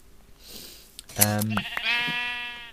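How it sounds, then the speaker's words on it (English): In Minecraft with the Create mod, a sheep gives a couple of clear, nearby bleats. Each one is a strong wavering cry, and they follow a faint hiss. "See what I mean? Sheep galore."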